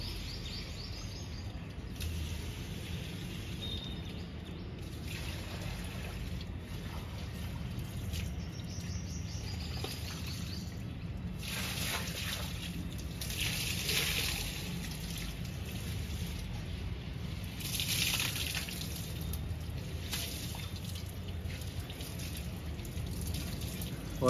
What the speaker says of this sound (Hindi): पौधों में पानी भी डाल दें